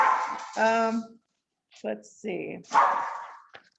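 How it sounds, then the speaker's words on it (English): Two dogs bark and yip in short bursts while playing indoors, close by, with a person speaking briefly between the barks. "So if you hear them barking, they are playing."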